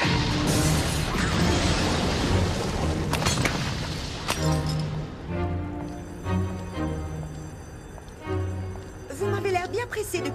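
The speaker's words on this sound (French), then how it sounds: "Prévenez la garde, il y a eu une explosion !" A loud crash and shattering burst of debris, followed by rumbling and scattered clattering as things settle, with voices shouting over it.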